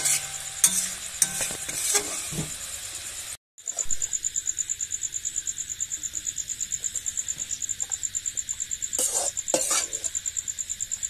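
Egg masala bhuji being stirred and fried in a pan: a steady sizzle runs throughout with repeated rhythmic scrapes of a spoon against the pan, a brief cut near the start, and a high insect-like chirp persisting in the background.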